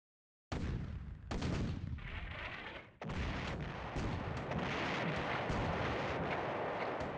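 Artillery fires at a tank in a PS1 video game: two sharp booming blasts, followed by a dense, continuous roar of gunfire and explosions.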